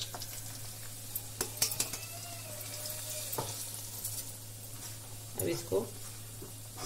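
Ground moong dal roasting in ghee in a kadhai over medium heat for halwa, making a soft frying sizzle with occasional spoon scrapes and clinks while someone talks over it.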